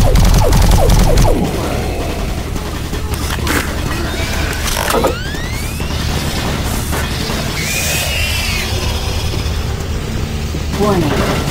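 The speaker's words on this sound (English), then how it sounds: "Warning. Automated turret guns online." Automated turret guns in Doom 3 BFG Edition fire in loud mechanical bursts with ratcheting, clattering gear-like action, a rapid sustained barrage over an ongoing dense game soundscape.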